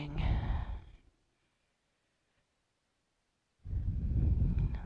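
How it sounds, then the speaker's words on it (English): Deep audible breathing during a slow yoga stretch on a mat, one long loud exhale followed by a silent pause and then a second strong breath, close to the microphone. "Breathing."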